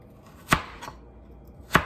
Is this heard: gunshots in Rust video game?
no